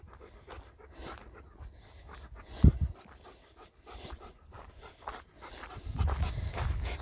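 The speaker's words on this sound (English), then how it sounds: "The doggy's trying to follow me." A dog walks close by on a shore path at Alness Point, panting in quick rhythmic breaths with soft footfalls and a couple of louder bumps, no talking.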